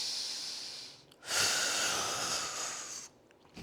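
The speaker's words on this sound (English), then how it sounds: "Take some breaths." Deep, slow breathing from a person lying on their back on the floor during a hip mobility session: a long, airy inhale-exhale hiss, close and quiet, with a pause before and after and no talking.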